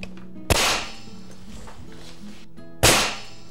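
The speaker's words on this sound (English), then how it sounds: "place the nail gun, and fire" A nail gun driving nails into wood for a wooden snowman: two loud, sharp bangs about two seconds apart, each ending in a short ringing decay, close by and with no talking.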